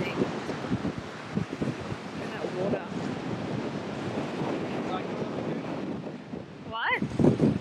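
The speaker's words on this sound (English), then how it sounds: "It's so windy" Strong wind buffets the microphone in rough, rumbling gusts, with surf churning underneath and a brief voice near the end.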